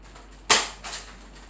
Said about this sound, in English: Now, I'm gonna show the gun shooting.